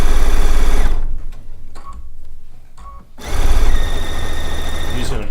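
A sewing machine stitches a quarter-inch seam in loud, fast whirring runs, pausing for about two seconds in the middle before starting up again at full speed.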